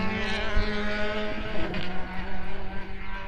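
Engine roar of Formula BOSS race cars at speed at Kirkistown, Ireland, with a steady droning tone and wind buffeting, loud and continuous without voices.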